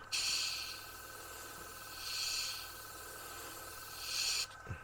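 Three bursts of airy airbrush spray hiss over a constant faint whine while painting panel lines on a Revell 1/32 He 111 model, each rising and fading, followed by a soft click.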